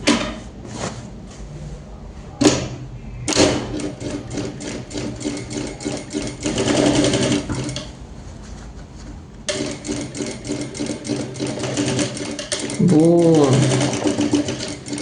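Bursts of rapid stitching from a sewing machine as it closes the lining of a double-sided bag, loud and close, starting and stopping with fabric handling noises in between and someone talking at points.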